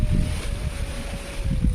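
Wind gusts buffet the microphone in a steady low rumble, swelling slightly near the start and end, with no voices.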